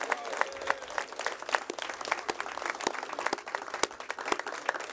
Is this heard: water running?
no